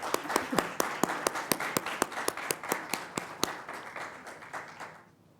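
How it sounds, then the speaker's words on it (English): An audience at an IEEE Simon Ramo award ceremony applauds with sharp, evenly spaced claps at a brisk, steady rhythm, close and fairly quiet, slowing and fading out after about five seconds. "Big round of applause."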